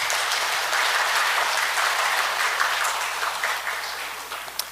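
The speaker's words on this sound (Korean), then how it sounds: "앞에 영광의 박수 드리겠습니다." A church congregation at a Christmas Day service claps together in a dense, sustained round of applause that fills the room and tapers off slightly toward the end.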